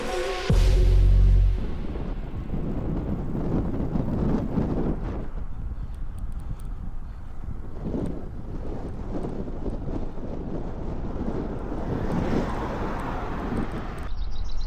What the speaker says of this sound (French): je le bouffe le vent